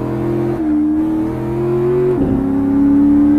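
A rear-wheel-drive Camaro in a video game pulls away under loud, steady engine drone, its pitch wavering slightly as it shifts and climbs again, with no voices.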